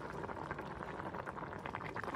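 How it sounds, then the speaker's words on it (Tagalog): Squash and shrimp simmering in coconut milk, with spinach about to be added, bubble at a steady boil, a dense, even, close-up burble with no talk. "Ayan guys, kumukulo na siya."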